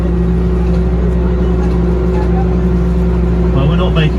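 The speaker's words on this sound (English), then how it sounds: "The power of the engine has been transferred to the jet drive at the back." Sea Horse Major amphibious vehicle on water with its engine powering the jet drive at the back, a loud constant low engine drone with steady hum and rushing water throughout.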